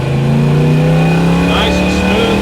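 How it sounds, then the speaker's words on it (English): A car engine with a newly installed Street Demon carburetor runs at wide open throttle up through the gears, making a loud, continuous, close roar with steady harmonics and no break. "I'm going to run this thing up through the gears at wide open throttle"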